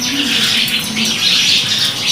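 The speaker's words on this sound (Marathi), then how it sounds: "अंगणात जे आंब्याचे झाड आहे त्याच्यावरती खूप साऱ्या चिमण्या बसल्या होत्या." Many sparrows chirp and twitter together in a courtyard mango tree, a dense, continuous bright chatter from close by with no talking.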